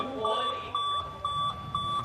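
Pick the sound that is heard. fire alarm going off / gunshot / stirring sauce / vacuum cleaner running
fire alarm going off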